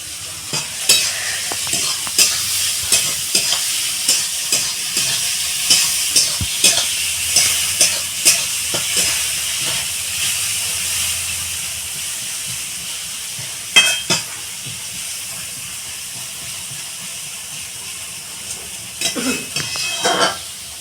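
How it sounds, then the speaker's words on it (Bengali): Onions fry with a pinch of salt in a pan for a village-style mutton curry, a steady sizzle with rhythmic scraping stirs of a spatula, occasional louder clanks against the pan. "এবার আমি ভালো করে পেঁয়াজটা ভাজা ভাজা করে নেব।"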